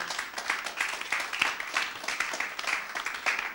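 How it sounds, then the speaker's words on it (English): A church congregation claps hands to welcome visitors during a sermon, a lively, moderately loud patter of many hands with a rhythmic pulse throughout. "So kind of clap your hands and welcome our visitors today."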